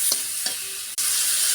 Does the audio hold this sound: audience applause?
no